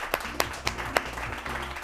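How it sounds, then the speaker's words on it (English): A small audience at an elementary school science quiz competition claps for the coaches and administrators. Only a few sharp, widely spaced hand claps stand out over a low hum. "let's have a nice round of applause for our coaches and our administrators here today"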